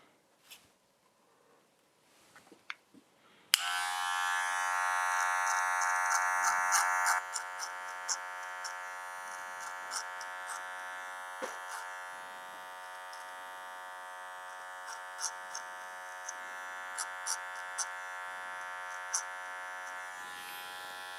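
An electric hair clipper switches on and buzzes steadily and loudly while trimming a beard, its even hum broken by faint, scattered clicks and taps as it works through the hair.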